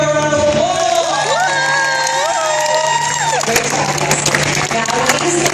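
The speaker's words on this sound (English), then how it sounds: "Johnny, give her a round of applause." A live stunt-show crowd cheers and claps, loud and close, over sustained shouting voices and a steady hum, with the clapping growing more distinct toward the end.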